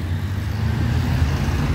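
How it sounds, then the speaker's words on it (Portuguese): Steady dense rumble of heavy road traffic near a viaduct beside warehouses and depots, continuous and fairly loud with no distinct passes, no talk. "O trânsito é intenso."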